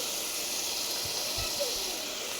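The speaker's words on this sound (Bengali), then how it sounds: "সবজি দিয়ে দিলাম। সবজিটা দিয়ে ভালো করে নাড়িয়ে নেব।" Vegetables hit hot oil that has been cooked down with spices, giving a steady, loud, broad hiss of sizzling throughout with a few faint low knocks underneath.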